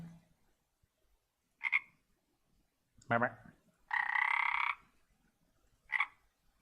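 Digitized frog croaks from an MMO character creator in Unreal Engine, four short separate bursts spaced a second or more apart, the longest mid-clip, moderately loud against near silence.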